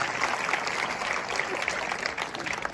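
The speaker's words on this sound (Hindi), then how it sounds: "एक बार लव कुमार यादव के लिए जरा जोरदार तालियां बजाइए।" Sustained applause from an audience at a Hindi kavi sammelan poetry gathering, a dense steady clapping wash lasting throughout with no speech over it.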